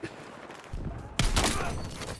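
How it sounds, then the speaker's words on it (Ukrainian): Gunfire from several enemies in Battlefield 6, heard as a dense, continuous burst of overlapping shots that grows louder partway through, with a muffled quieter stretch before it. "П'ятеро стоїть, стріляє по мені"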